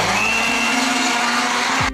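A blender grinding ginger whirs loudly and steadily for a couple of seconds before cutting off abruptly.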